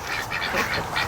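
A flock of farm ducks being herded by a dog keeps up dense overlapping quacks close by, a continuous busy clamour with no voices.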